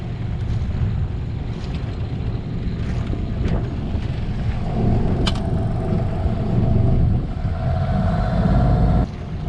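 A boat's diesel engine idles at anchor in icy conditions, a steady low rumble with some wind buffeting the microphone, holding for several seconds before cutting out abruptly near the end.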